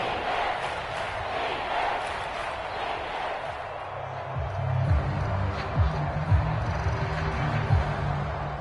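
Stadium crowd noise in a PS4 football video game, a steady roar of fans that swells louder partway through, with a few sharp bursts rising above it.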